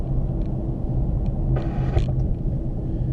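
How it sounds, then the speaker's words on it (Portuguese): A steady low rumble of a Renault Kwid E-Tech electric car's tires rolling over pavement, with no engine note, continuous and moderately quiet. "ele não tem mais ruído nenhum de motor, você ouve apenas ruído de rodagem"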